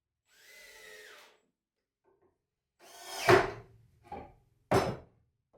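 A cordless drill drives screws into wooden bird feeder pieces, first a short whir, then several quick bursts of the motor with clunks of the workpiece, close by in a quiet shop.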